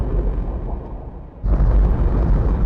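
An underwater torpedo launcher fires in Turok 2, a deep muffled rumble that suddenly swells into a louder, dense boom and holds steady.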